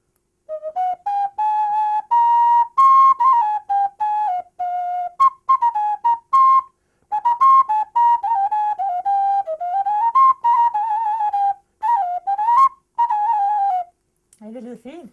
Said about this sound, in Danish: Og så blev det til en fløjte.